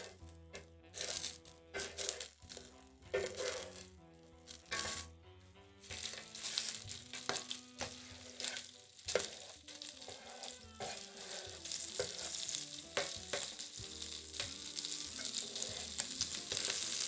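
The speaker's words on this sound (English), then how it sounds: "Can you hear the sizzling?" Food fries and sizzles in an oily pan on a home stove, with stirring, clattering utensil knocks early on, then a steady close hiss that builds toward the end.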